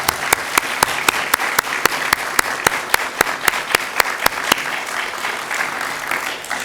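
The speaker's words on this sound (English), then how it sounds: "ask you to join me in a round of applause of appreciation for the good work our librarians do for us all" An audience at a library reading event applauds in appreciation of librarians: a steady wash of clapping with sharp, regular louder claps standing out, gradually thinning toward the end.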